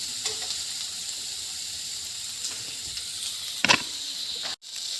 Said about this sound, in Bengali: যে রান্না করছি পেঁয়াজ কেটে আলু ভাজা